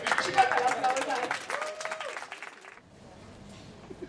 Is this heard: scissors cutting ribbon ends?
no